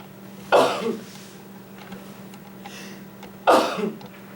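Two sharp, explosive sneezes about three seconds apart, close by, with quiet room noise between them.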